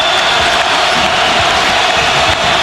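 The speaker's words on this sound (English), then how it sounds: "That brings the crowd up here in Iowa City." A stadium crowd in Iowa City roars during a college football game in the NCAA 2007 video game, a dense, sustained cheer that stays loud throughout.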